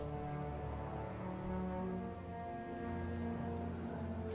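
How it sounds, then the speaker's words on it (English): Steady rain falls in the video game Jurassic World Evolution 3, a dense continuous patter with a low hum beneath it, fairly even throughout with no voices. "Is it raining again?"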